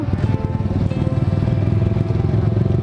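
A Yamaha R15 motorcycle being ridden, its engine droning loud and steady up close with a rough, pulsing note throughout.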